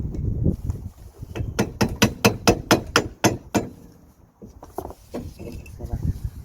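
Sharp metallic taps from a flathead screwdriver knocking the dust cap off a Suzuki Wagon R rear wheel, about a dozen quick evenly spaced strikes, close and loud, then a pause and a few softer scrapes and knocks.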